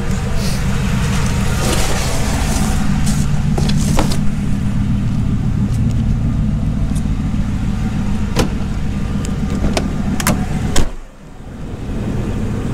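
Ford Crown Victoria with a manual five-speed gearbox being driven, a steady engine and road drone from inside the car, with a few sharp clicks and a thump before the sound briefly drops.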